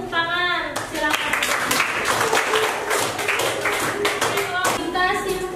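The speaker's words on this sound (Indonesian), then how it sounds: "Oke, beri tepuk tangan." Students in a vocational high school classroom break into a lively round of clapping for a group's work, many hands together for several seconds, with young voices talking just before and after.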